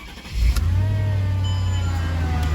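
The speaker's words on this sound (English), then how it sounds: "turn on the car." A Mercedes E55 AMG engine starts up and settles into a steady low idle. A brief catch is followed by the engine firing, then a smooth continuous rumble with a faint pump whine above it, heard close up.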